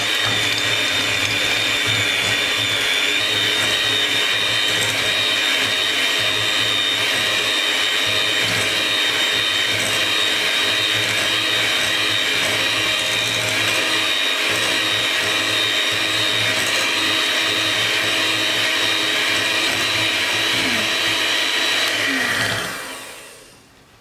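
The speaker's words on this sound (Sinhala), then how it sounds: "මෙතන බටර් ග්‍රෑම් 250ක් තියෙනවා අපි ඒ ටිකක් දාලා බීට් කරගමු" An electric mixer beats 250 grams of butter for a butter cake, a steady loud whirring drone that runs unbroken for the whole stretch and cuts off abruptly at the end.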